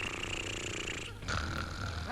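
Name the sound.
performer imitating snoring in radio comedy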